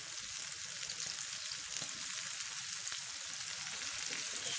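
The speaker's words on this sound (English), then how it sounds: "I've added the oysters to fry them in a pan." Steady, dense sizzling of semolina-coated oysters frying in hot oil in a pan, continuous and close, with no voices.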